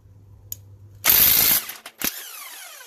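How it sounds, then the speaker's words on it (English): An impact gun works on a car wheel of a BMW 530d E60 in a home garage, firing one loud half-second burst of rattling hammering followed by a shorter second burst, with no voices. "I'm going to use my trusty impact gun"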